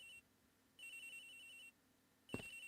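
Cell phone ringing in the Ace Attorney Investigations video game, two bright electronic ring bursts separated by pauses, faint and alone, with a third starting at the end over a short thump.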